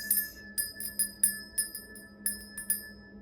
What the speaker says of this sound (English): I'm going to begin by ringing the bell, cleanse the space.